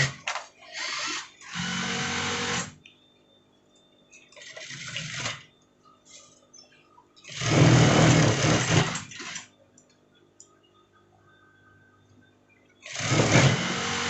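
A sewing machine stitches the lining of a jas almamater jacket in loud bursts of about two seconds, stopping and starting several times with quiet pauses between runs.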